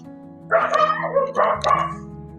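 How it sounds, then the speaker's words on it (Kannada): A farm dog at an areca plantation home barks in a short burst of two or three close, loud barks with a whiny tone. "ನಮ್ಮ ನಾಯಿಗೆ ಬೇಜಾರಾಗಲಿಕ್ಕೆ ಶುರುವಾಗಿದೆ"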